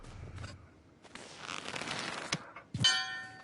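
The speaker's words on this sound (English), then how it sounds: "Sounds like twinkle bells." Twinkling bells chime in the Redwall video game, a faint shimmering texture that ends in a brighter, ringing bell-like chime near the close, with no speech.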